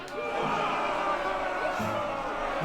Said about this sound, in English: They all shout at once.